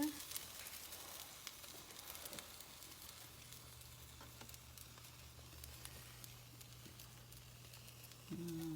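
Aztec spice French toast sizzles quietly in a frying pan, a soft, continuous crackling hiss with faint scattered pops, while a voice briefly speaks at the start and end.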